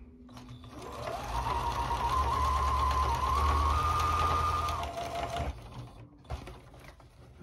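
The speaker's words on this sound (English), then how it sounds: "is now sewing the bottom of the cushion to the top, the fabric" Sewing machine stitching the bottom of a dinette cushion cover to its top fabric for a 1984 Chris-Craft Catalina 381 boat, a loud close motor whir that speeds up, holds for about four seconds, then winds down.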